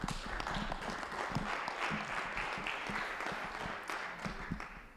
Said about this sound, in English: So applause for Luís